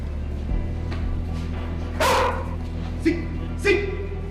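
Police K9 dogs bark during ATF explosives detection scenario training, with about three sharp, fairly close barks spaced across a few seconds over a steady low background hum.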